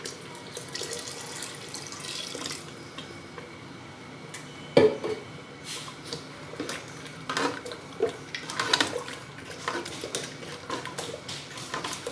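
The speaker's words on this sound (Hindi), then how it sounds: "इसके अंदर पानी ऐड कर देते हैं।" Water is poured into a pot of spinach and chana dal in a home kitchen, a moderate splashing trickle amid clinks of utensils and cookware.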